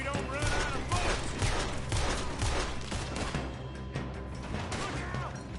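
Sustained gunfire from Red Dead Redemption 2 in a heavy shootout, dense and continuous shots layered over one another at steady loudness throughout.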